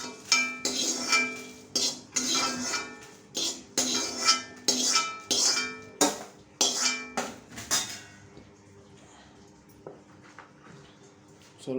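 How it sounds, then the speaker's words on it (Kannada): A spoon scrapes and clinks against a metal pan and plate as a cooked leafy-greens sukka is served out: a close, busy run of sharp clatters for about eight seconds, then only a few scattered taps. "ಇದನ್ನು ತೆಗೆದು ಆ ಪ್ಲೇಟಿಗೆ ಹಾಕಬೇಕು."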